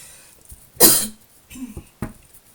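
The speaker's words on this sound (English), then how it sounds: "I feel like I'm going to start coughing." A single person coughs sharply and loudly nearby, followed by a couple of smaller throat sounds or softer coughs, with no talking.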